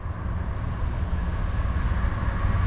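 A CSX freight train led by ES40DC and ES44AC-H locomotives passes close by at Bound Brook, New Jersey, heading westbound with a loud, steady rumble and rolling roar throughout.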